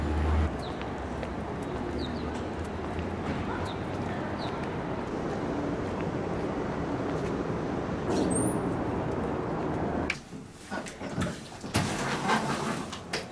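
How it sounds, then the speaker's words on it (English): Scattered bird song and the soft cooing of pigeons on a morning with construction nearby, heard over a steady outdoor rumble of traffic and engines, with a louder passing noise near the end. "It's nice to wake up to construction, plus the random bird song."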